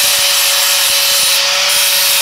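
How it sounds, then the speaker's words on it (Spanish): An angle grinder grinds a steel cable terminal for a vehicle handbrake cable. It makes a steady, loud, high abrasive whine with a constant ringing tone and no talking. "tengo que lijarlo con el esmeril para"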